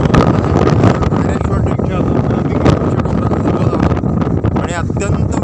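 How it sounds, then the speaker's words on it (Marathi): Strong, gusty wind roars and buffets the microphone on a monsoon trek at Rayreshwar. The rumble is loud and continuous throughout. "वारा इतका तुफान आहे की मला मोबाईल दोन्ही हाताने सुद्धा धरणं जड जात आहे"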